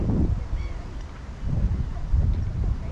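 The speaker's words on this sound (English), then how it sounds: "Oh yeah, there, the wind's coming back." Outdoor wind buffets a GoPro Hero 9 microphone in loud, uneven low rumbling gusts that swell and ease throughout, with no voice over it.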